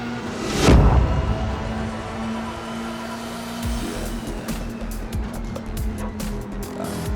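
A racing car in a sim racing video game on a flying lap, engine droning steadily at high revs, with a loud whooshing surge early on and faint shifts and clicks later.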